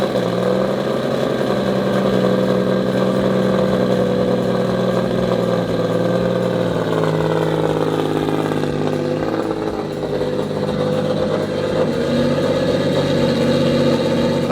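A Subaru WRX STI fitted with a 3.3L H6 engine, running rich, idles in a garage with a steady, even low hum and rumble that holds at a constant level throughout.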